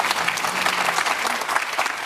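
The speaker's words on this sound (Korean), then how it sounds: "이럴 때 박수 하시면 합니다" A studio audience at a live televised public forum with the Korean president applauds steadily, a dense wash of many hands clapping at once, fairly loud and continuous throughout.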